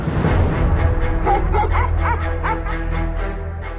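Dogs barking at a barking contest, a run of sharp repeated barks and yips close by over a loud steady background rumble.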